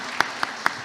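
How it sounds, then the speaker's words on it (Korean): Sparse, rhythmic claps during a Sunday church service, four distinct hand claps evenly spaced over a steady room hum, fairly close, with no one speaking. "박수하겠습니다."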